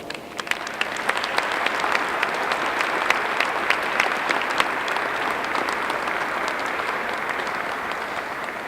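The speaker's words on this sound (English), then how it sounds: "give a nice round of applause to all the people that worked on this process" A room full of people at a museum event claps steadily, a dense and even round of applause that runs alone throughout.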